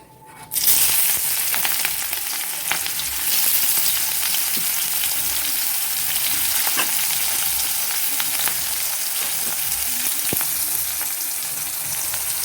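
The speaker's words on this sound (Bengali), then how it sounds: "পেঁয়াজটা দিয়ে এবার আমি একটু লাল লাল করে ভেজে নেবো" Chopped onions fry in hot oil in a pan along with bay leaves and whole garam masala, a loud, continuous close sizzle with occasional stirring scrapes and no voices.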